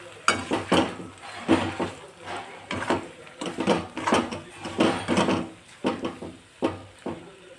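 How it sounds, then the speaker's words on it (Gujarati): Boiled pasta being mixed in a pan with tomato ketchup and red chilli flakes for veg masala pasta, heard as repeated close scraping and clinking spoon strokes in an uneven rhythm, with no talking. "હવે આપણે બધું જ મિક્સ કરી દઈશું."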